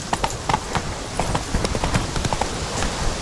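Roach, the horse in The Witcher 3, trots along with steady, rhythmic clip-clop hoofbeats, close and moderately loud, a quick repeating cadence over a light background hiss.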